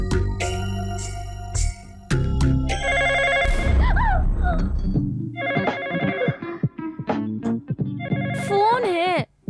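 A telephone rings with a repeated electronic ringtone in a domestic scene of a Hindi-dubbed South Indian film, its bright warbling tones coming in bursts over background music, loud and close.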